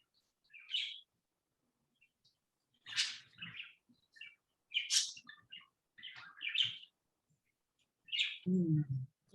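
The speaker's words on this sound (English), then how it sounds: "Mine are birds that live here and a neighbor bird whose family's gone on vacation." Pet birds, including a visiting neighbor's bird, give short bright chirps and tweets in scattered bursts. They sound close and clear against a quiet room, with a lower, throatier call at the end.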